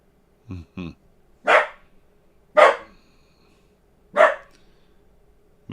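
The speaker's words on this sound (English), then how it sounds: "Max barking over here." A dog barks nearby in short, loud single woofs spaced a second or so apart, with a couple of quicker yips at the start and quiet room tone between.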